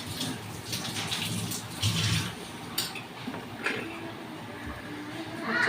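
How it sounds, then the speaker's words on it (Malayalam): Boiling water is poured into a cooking pan of sautéed butter chicken masala, making a splashing, gurgling pour with light clinks of metal cookware, close and fairly soft, with brief surges. "കുറച്ച് വെള്ളം, തിളച്ച വെള്ളം"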